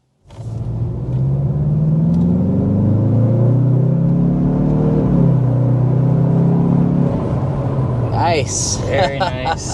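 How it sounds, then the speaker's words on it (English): A turbocharged Mazda CX-30 engine pulls hard under acceleration, its rising, rumbling tone climbing through the gears from inside the cabin, followed by a short spoken remark near the end. "it's always just fun to be behind the wheel of one of these turbocharged Mazdas because they are quick"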